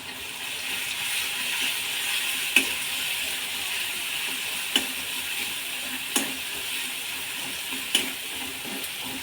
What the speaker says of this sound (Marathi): हे आपण जे हिरवी मिरची आणि लसूण वाटून घेतला आहे ते टाकायचं